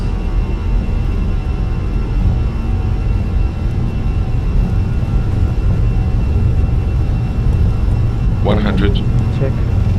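Airliner engines spool up during the takeoff roll of TAP flight 1902 from Faro to Lisbon, a loud, steady broadband roar that holds throughout, with a brief voice heard near the end.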